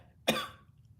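A single short, harsh cough from a person ill with COVID, close and fairly loud, alone in a quiet room.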